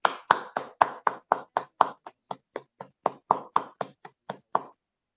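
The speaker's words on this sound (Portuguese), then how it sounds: "Nós temos aí que aplaudir." Hand claps at a closing ceremony of an architecture congress in Rio, about twenty sharp, evenly spaced claps at a steady rhythm, close and fairly loud, with no voices over them.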